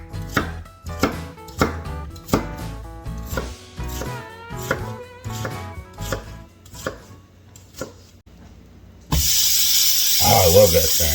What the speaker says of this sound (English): Just gonna chop up some quick onion here.